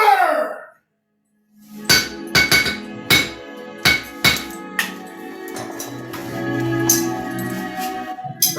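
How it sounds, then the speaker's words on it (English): Repeated sharp metallic blacksmith hammer strikes ring out in an uneven rhythm, close and loud, followed by a ringing metallic clatter. "Hammer!"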